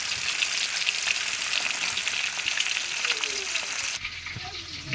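Tilapia fish frying in a pan of oil gives a steady, close crackling sizzle that holds for most of the moment, then thins and drops near the end as water and handling noises take over.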